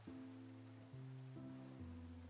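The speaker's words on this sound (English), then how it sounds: "It's raining again." Rain falling in a video game, a faint constant hiss of drops that sits beneath a steady, droning musical track with sustained notes changing pitch every second or so.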